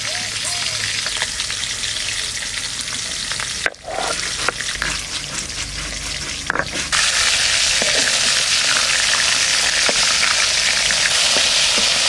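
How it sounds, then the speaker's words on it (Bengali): Fish frying in oil in a pan, a loud, continuous close sizzle broken by brief scrapes and pauses as pieces are moved, then swelling to a fuller, steadier hiss. "সব কটা মাছ আমি ভেজে নেব"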